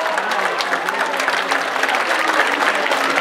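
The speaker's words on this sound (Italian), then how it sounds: "un bellissimo applauso. Eccola. Per Cristina" Audience at a town song festival breaking into dense, sustained applause, many hands clapping loudly and close throughout.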